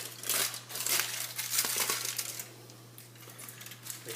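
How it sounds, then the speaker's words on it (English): Aluminium foil is peeled off a bacon-wrapped stuffed chicken breast, giving close, crisp crinkling and rustling in uneven bursts over a faint steady hum, with no talking. "Make sure we get the foil to come off evenly."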